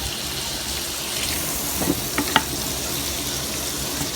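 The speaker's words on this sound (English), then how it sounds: "I'm gonna go ahead and sweat down these onions" Onions sweat in a pan with a soft, steady sizzle and a few light scraping clicks of a utensil partway through, close and quiet with no voices.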